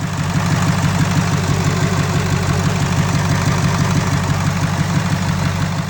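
A 7.3 Powerstroke diesel with heavy blow-by idles loudly and close up, its rhythmic low clatter and pulsing chug unbroken throughout.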